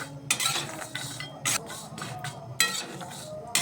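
Cashew nuts stirred while frying in a pan, with sharp scraping and rattling strokes of a spatula coming in irregular bursts, close up, over a low background of faint sizzle.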